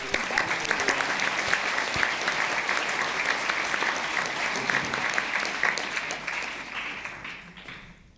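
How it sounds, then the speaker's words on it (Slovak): Sustained applause from an audience for participants at a prize-giving, dense steady clapping that gradually fades out toward the end. "veľký potlesk pre vás a pre vás"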